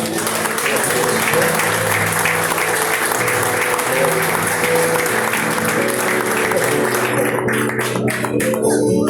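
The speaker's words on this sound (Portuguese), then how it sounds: "você pode aplaudir o Senhor." A church congregation claps together in sustained, dense applause that fills the room, loud and continuous, thinning slightly near the end.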